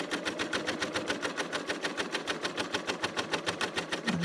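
A Bernina L890 sewing machine stitches over a bulky quilt-as-you-go seam, a steady rapid mechanical chatter of needle strokes running continuously and close, with no talk.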